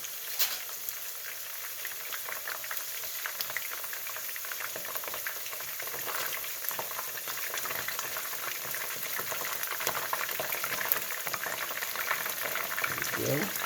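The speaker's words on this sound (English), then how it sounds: "Now the second fry only need about a minute or so on each side." Korean spicy garlic chicken pieces getting a second fry in hot oil, a steady dense bubbling and crackling sizzle that holds evenly throughout with faint background sounds.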